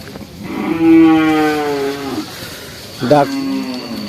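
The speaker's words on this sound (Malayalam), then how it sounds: "ഇതാ നല്ല നല്ല പശുവും പയ്യും ഒക്കെ ഉണ്ട് കരച്ചൽ കുറച്ച് കൂടുതലാണ്" Cows at a Sunday cattle market in Kollannur moo loudly and close by: one long, drawn-out low call, then a shorter second moo after a brief pause.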